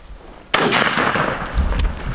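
A single loud shotgun blast fired at a turkey during a South Georgia hunt cracks sharply and then rolls off into a long outdoor echo.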